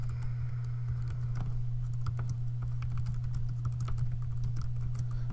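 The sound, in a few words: typing on a computer keyboard in Word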